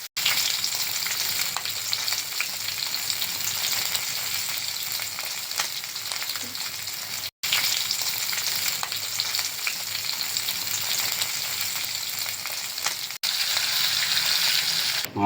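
Fish head frying in hot oil for moong dal, a steady loud sizzle running throughout with one brief dropout midway and faint stirring clatter.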